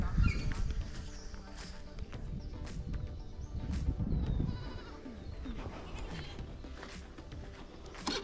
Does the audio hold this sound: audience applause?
no